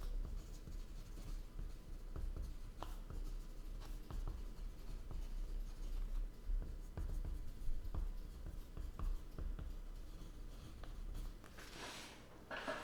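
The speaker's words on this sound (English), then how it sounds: "am writing a note." A pen scratches steadily across paper while writing a note, a continuous close scribbling texture with small strokes and taps throughout and no talking.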